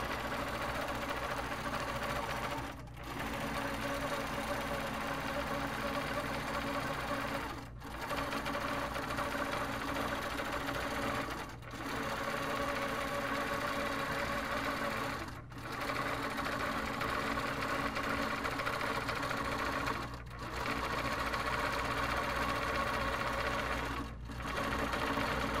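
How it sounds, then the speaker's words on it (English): An HQ longarm quilting machine guided by a Pro-Stitcher runs continuously with a loud, steady motor hum and fast needle rhythm. It pauses briefly at regular intervals of a few seconds, then resumes, with no voices. "now it's just gonna stitch all the way around"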